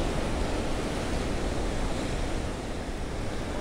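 Sea waves breaking on rocks along a rocky fishing shore, a steady loud broadband wash of surf with wind noise, continuous throughout with no voices.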